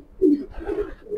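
Racing pigeons cooing nearby, a couple of soft, throaty low coos in quick succession with faint background noise.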